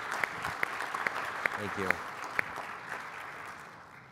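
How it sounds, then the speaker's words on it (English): Audience applause for a business panel's panelists, a broad wash of clapping under a speaker's brief thanks, with a few sharp individual claps standing out and the sound gradually tapering off. "how about a round of applause for our panelists here?"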